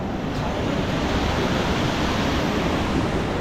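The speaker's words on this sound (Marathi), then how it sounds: "नदीला पाण्याचा फोर्स बघा किती" Forceful river rushing along the rain-swollen trail toward Gaurikund near Kedarnath, a loud, dense, continuous roar of churning water with no voices.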